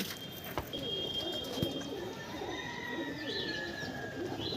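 Home-bred Regdar pigeons in a loft coo softly nearby, with thin chirps and faint background noise, a quiet and fairly distant scene.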